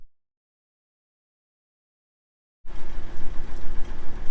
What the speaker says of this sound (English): Typical, I start filming and the bloody car comes around the corner.